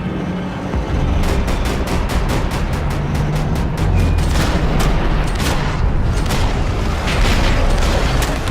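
Rapid automatic gunfire rattles through a Max Payne 3 shootout, long bursts of close, loud shots over a dense roar of explosions and battle noise.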